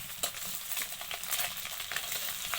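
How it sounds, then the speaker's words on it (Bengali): Eggs frying in oil in a pan, a steady close sizzle with faint crackles and occasional scrapes of stirring, no voices. "ভাজতেছি তেল দিয়ে উল্টে দিতে হবে। এখন ডিমগুলি লেগে গেছে, এক পাশ হয়ে গেছে, আর এক পাশ ভাজতে হবে ভালো করে।"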